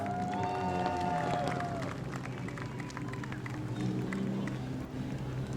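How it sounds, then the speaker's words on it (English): A large crowd at a New Smyrna stock car race claps and cheers for the race winner in a loud, sustained wash of applause, with an announcer's voice carrying over it through the first seconds. "let's hear it for your winner, Blake Clouser in car number 5."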